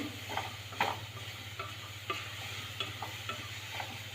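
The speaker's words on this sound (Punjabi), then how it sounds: "ਲਸਣ ਅਦਰਕ ਪਾਵਾਂਗੀ ਇਹਦੇ ਵਿੱਚ ਮੈਂ ਇਹਨਾਂ ਨੂੰ ਵੀ ਚੰਗੀ ਤਰ੍ਹਾਂ ਭੁੰਨਾ ਕੇ ਹਿਲਾਉਂਦੇ ਰਹਿਣਾ" Garlic and ginger roast in a pan for a ghee-free tadka with a faint, steady sizzle, while a spoon scrapes and stirs in occasional quiet strokes over a constant low hum.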